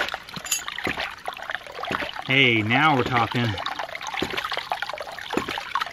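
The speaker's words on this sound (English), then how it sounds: "that's just a quick look at the Agri Papa Pump cycling" An Agri Papa water pump cycling in a creek, with flowing water and rhythmic splashing and churning under steady outdoor noise, plus a brief warbling tone in the middle. Someone speaks briefly near the end.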